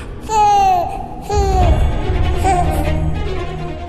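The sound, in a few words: baby crying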